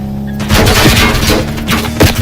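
Loud gunfire in Call of Duty Warzone: several sharp, booming shots in irregular bursts, close and heavy, with no speech over them.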